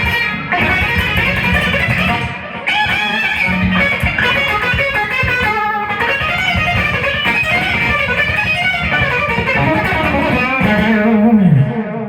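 Walnut prototype Strat-style electric guitar on a pickup setting with a honky, nasal tone, played continuously in melodic lines and chords at steady loudness, ending with a bending low note.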